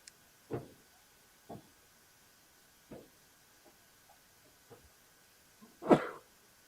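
A sneeze from someone in the crowd at a baseball game, a short sharp burst near the end, after several fainter scattered thumps and bursts.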